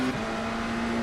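Race car passing close on the left during a race, a steady tonal engine drone holding level for a moment under a broad roar of noise.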